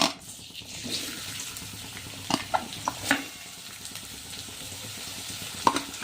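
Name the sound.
chopped onions added to hot oil, sizzling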